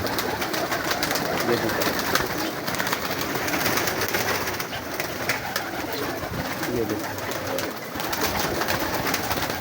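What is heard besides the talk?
pigeons cooing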